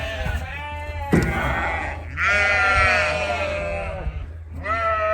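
A herd of cows calls out nearby, several loud drawn-out moos overlapping and trailing off one after another, with a short gap before a final call.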